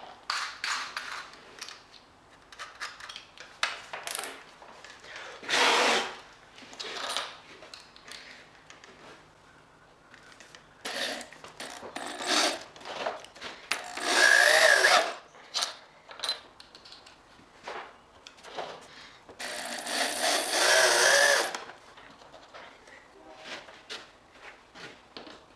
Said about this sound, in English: Let's start screwing this thing in.